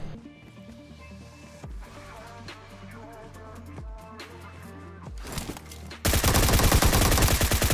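Gunfire in a battle royale game: a few isolated shots over a musical background, then a sudden loud, dense burst of rapid fire that fills the final seconds.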